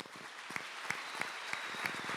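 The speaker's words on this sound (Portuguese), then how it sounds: "Você pode aplaudir o Senhor?" A church congregation claps for the Lord in a short, rhythmic burst, evenly spaced sharp claps over a soft wash of crowd sound, with a faint repeated tone above.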